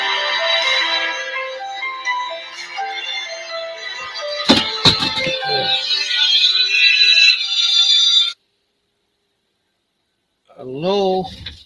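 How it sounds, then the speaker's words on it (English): An incoming call sets a phone ringing, its bright repeating tones running steadily for about eight seconds with a few clicks in the middle. The ringing stops abruptly, silence follows, and a voice speaks briefly. "I've got a phone call."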